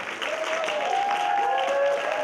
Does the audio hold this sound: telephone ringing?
no